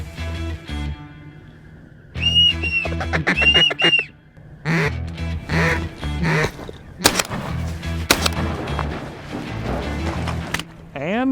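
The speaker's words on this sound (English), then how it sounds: "Oh, dude. Mallards." Mallard ducks quack repeatedly in a late-season waterfowl hunting setting, with loud bursts over a steady background and people talking excitedly throughout.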